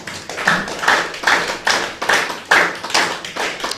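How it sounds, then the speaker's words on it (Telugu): An audience at a talk on the Buddha's eightfold yoga path claps in rhythm. The unison claps come as a steady train of about eight sharp, loud beats, roughly two per second, with no talk over them. "ఒకసారి గట్టి క్లాప్స్ కొడదాం"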